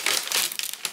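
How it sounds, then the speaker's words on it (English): Paper is picked up and handled, giving a close, dense burst of crinkling and rustling that lasts about a second with no voices. "Sorry for the crinkling noises, it's probably really annoying."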